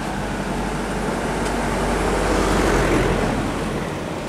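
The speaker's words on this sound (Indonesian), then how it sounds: "Ada bus itu, apa tuh?" A bus rolls along a road in Indonesia during the 2023 post-holiday return traffic, heard as a steady broadband engine and tire roar that swells slightly midway and stays close and continuous.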